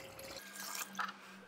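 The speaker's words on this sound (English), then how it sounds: "So I'm just gonna add a little water." Water poured into a bucket of mango wine must, a soft splashing trickle nearby that swells briefly and then fades.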